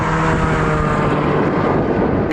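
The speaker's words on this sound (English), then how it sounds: "Nice pickup for this naturally aspirated engine, but the two turbocharged cars just shot off with that added torque." A naturally aspirated Porsche Cayman GTS engine accelerates hard in a drag race against turbocharged cars, giving a loud, steady roar with heavy wind rush throughout and no talk.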